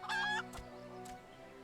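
Chickens cluck in the Final Fantasy XIV Hatchingtide event: one bright, loud squawk early on, then softer clucks over a steady game music bed.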